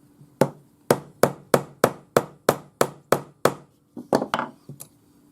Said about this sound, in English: just hold my chasing hammer on top and then hit it with my rawhide hammer